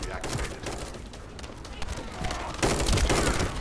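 Gunfire from the video game The First Descendant, a rapid burst of shots that swells louder near the end over steady game noise, with voices talking throughout.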